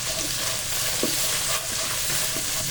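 Garlic and lemongrass being stir-fried in a wok, a loud, steady hissing sizzle with a few brief spatula knocks, close up.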